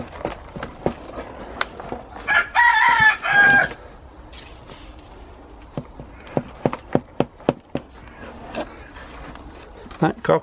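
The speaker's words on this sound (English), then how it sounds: "That cockerel's showing off because he's outside" A rooster crows once nearby, loud and drawn out, amid a run of sharp clicks and knocks.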